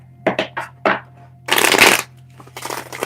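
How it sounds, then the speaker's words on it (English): Tarot cards being shuffled by hand, a series of short crisp riffles followed by a longer dense flurry of flicking card noise and a softer trailing shuffle, close and clear. "One more shuffle."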